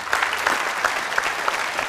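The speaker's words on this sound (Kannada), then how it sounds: "ಚಪ್ಪಾಳೆ" Audience applause in a TV game show studio: a dense, steady wash of clapping that holds at even loudness for the whole stretch, with no voices over it.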